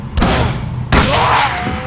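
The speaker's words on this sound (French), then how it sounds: "Quelqu'un m'a tiré dessus" Two sharp, loud gunshots ring out in the Call of Cthulhu video game, about 0.7 seconds apart. Each blast is a broad crack that trails off into a reverberant tail.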